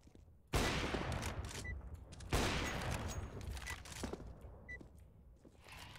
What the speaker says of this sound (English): Is this guy even shooting me?